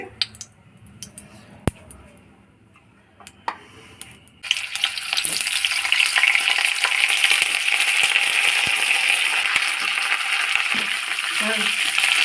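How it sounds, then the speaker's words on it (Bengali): White oil and a couple of spoons of ghee heating in a wok break into a loud, continuous sizzle about a third of the way in, after a few quiet clinks and taps, and keep frying steadily to the end. "কড়াইতে সাদা তেল দিয়ে দিচ্ছি দু চামচ মতন ঘি দিয়ে দিলাম"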